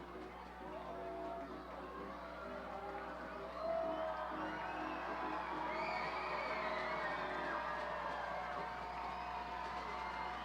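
A minor-league baseball crowd at a classic ballpark cheers, whoops and shouts to rally the trailing home team, a moderately distant, sustained mix of voices with scattered individual yells and a brief louder burst partway through.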